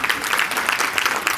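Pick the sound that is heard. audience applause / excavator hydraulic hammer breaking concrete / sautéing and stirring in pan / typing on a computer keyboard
audience applause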